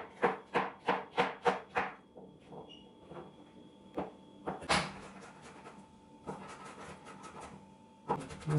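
A knife chops courgette into small pieces on a board, starting with a quick run of about six sharp, regular chops, then sparser, irregular knocks and scraping clatter nearby.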